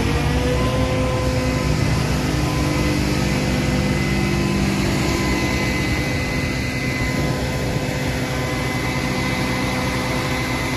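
A concrete mixer truck's diesel engine runs loud and steady while the truck unloads about eight cubic metres of thickened, two-hour-old concrete. The engine holds a constant droning roar with a faint whine on top, and no one speaks.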